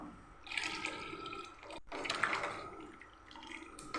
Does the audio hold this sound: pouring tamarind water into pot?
yes